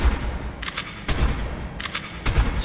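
Gunfire in a dinosaur-hunting video game, with several bursts of shots in two clusters, each opening with a loud boom and followed by quick cracking reports, no talk.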